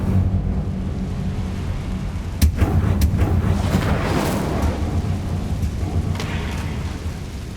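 Incendio fire spell cast in Hogwarts Legacy: a loud whooshing fiery blast with sharp cracks and rumbling bursts, followed by a sustained roaring rush that slowly fades, with no voices.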